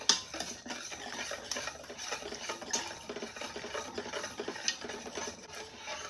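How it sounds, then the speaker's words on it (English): Evaporated milk and maple syrup being whisked in a bowl, a soft rapid scraping and rubbing of the whisk with faint clinks, quiet and continuous, no talking. "Give it a quick whisk until it's well combined."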